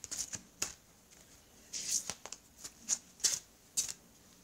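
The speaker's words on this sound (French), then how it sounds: "je vais prendre une carte des 4 accords Toltec pour voir un petit peu ce qu'on nous dit ici" Cards from a Four Agreements Toltec oracle deck are handled and drawn. Crisp, close flicks and riffles of card stock come in quick irregular bursts, with no talking.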